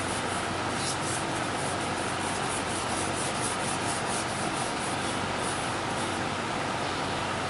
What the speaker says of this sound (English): I have my lacquer-based sanding sealer here, and I'm just going to give it a light coat